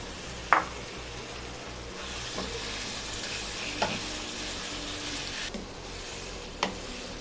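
Minced meat fries in a pan with green chillies and onion, a soft, quiet sizzle marked by a few sharp clinks and scrapes of a spoon stirring against the pan.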